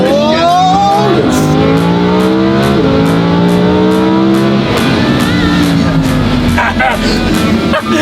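A straight-piped Lamborghini SVJ roars and revs as it drives hard and slides through a corner, its loud, close engine note rising and falling through the gears, with voices talking over it.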